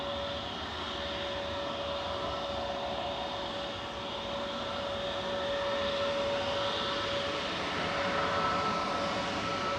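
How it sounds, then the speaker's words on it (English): Lufthansa Airbus A320neo jet departing Manchester Airport, a steady broad engine roar with a sustained whine, holding loud and even throughout, slightly swelling toward the end. "This is flight 949 departing in front of us to Frankfurt."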